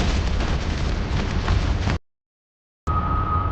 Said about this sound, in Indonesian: Dengan satu ledakan terakhir, cahaya Ethan menelan Raja Bayangan